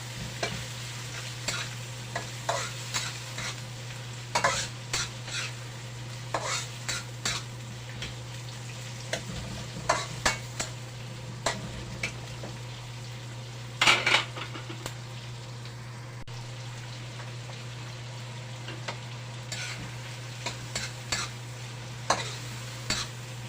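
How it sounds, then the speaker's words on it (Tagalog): Meat sautéing in a pan for ginataang gabi sizzles steadily, with repeated scrapes and clacks of a utensil stirring at an irregular pace, close up beside a constant low hum. "Igisa lang natin muna."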